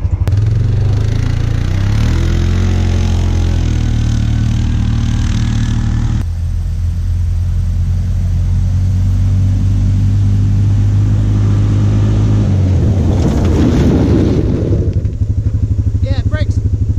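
A UTV drives at high speed, its engine a steady loud drone with rising and falling revs and rattling clatter throughout, louder roaring surges near the end.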